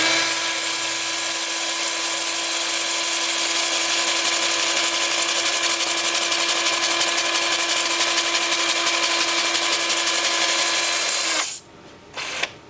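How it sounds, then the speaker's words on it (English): A power drill running in reverse spins a sanding pad against a Russian olive live-edge bowl turning on a lathe. The high whine is loud, close and steady, then cuts out abruptly near the end. "My drill's going in reverse and the lathe is going in reverse."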